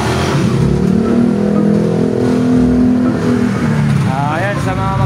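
A repaired motorcycle engine revs loudly and steadily at a repair shop test, a continuous close engine drone with people talking over it.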